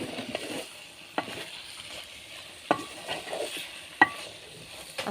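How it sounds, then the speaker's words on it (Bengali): Fish being stirred into a frying curry with spices in a pan, a steady low sizzle broken by several sharp scraping and knocking strokes of a spoon, close and moderately loud with no talk. "এগুলো একটু নেড়ে চেড়ে তরকারি আর মশলার সাথে মিশিয়ে নেব"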